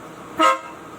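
A single loud honk from MARCO car horns wired with a Stingray horn harness on a Mitsubishi Xpander Cross, a brief blast of about a tenth of a second standing alone over quiet background.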